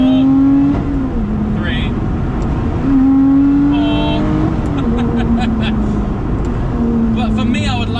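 A Lotus Exige 410 sports car engine revs up and eases off in repeated rising pulls as its exhaust valves open around 4,000 RPM, loud and close, with someone talking over it.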